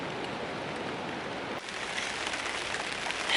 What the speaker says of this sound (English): the rain's coming harder now